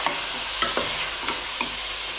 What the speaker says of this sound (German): Ich will ja quasi wirklich, dass das Fleisch erstmal richtig schön angebraten wird.